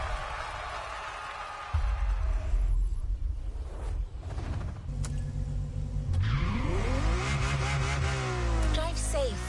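Ferrari LaFerrari supercar driving in The Crew Motorfest, its engine loud and steady throughout, revving up with rising pitch sweeps toward the end, with game sounds layered over it.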